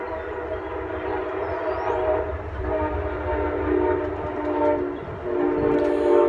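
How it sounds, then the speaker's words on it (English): An Amtrak passenger train rolls past with its horn sounding, a sustained loud rumble and rail clatter carrying long blaring horn tones that swell toward the end. "That's the Amtrak."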